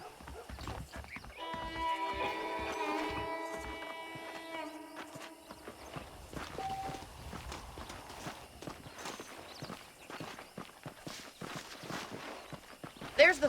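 Horses saddled and moving in the Red Dead Redemption video game on Xbox 360, hooves clip-clopping in a steady walking rhythm along with a whinny, under ambient game sounds and background music.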